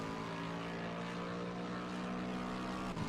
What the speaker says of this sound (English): It was like a plane or something just flew literally so low.